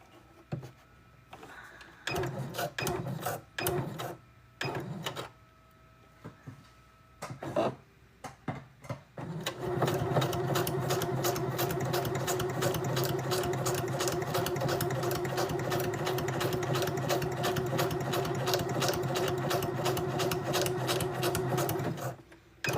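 A sewing machine top stitches a pocket on a craft project. Several seconds of short stop-start bursts and handling knocks lead into a long, loud, continuous run of rapid stitching.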